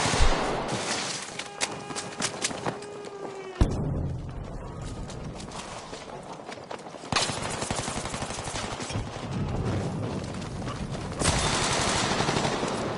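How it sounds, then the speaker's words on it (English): In the video game Frontlines, rapid bursts of automatic gunfire rattle on through a busy shoutcast match, with sharp repeated shots and a few louder cracks dense against a constant noisy background. "Nice shots by Eric right there"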